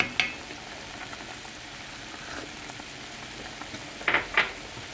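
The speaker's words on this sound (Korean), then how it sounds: "끓고 있지 이제 끓고 있는 상태에서" A pot of Korean perilla radish soup bubbles and sizzles steadily, soft and close. A few sharp clinks of utensils against the pot stand out near the start and again toward the end.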